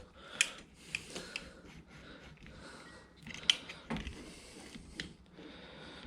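Bolts on a new electric bike being snugged down by hand with a tool, giving quiet intermittent metallic clicks, ratcheting ticks and small clunks at close range with no talking.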